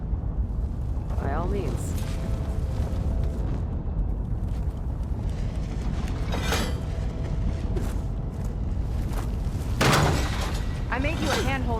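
Ballista bolts smash into a bridge in Horizon Forbidden West, heavy crashing impacts and rumbling debris over a droning game backdrop, with a few sharper crunches and brief speech mixed in.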